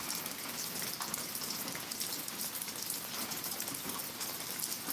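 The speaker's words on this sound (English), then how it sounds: "Yeah, it's raining pretty good." Heavy rain pours steadily, a close, even hiss of drops drumming on surfaces with no break and no voices.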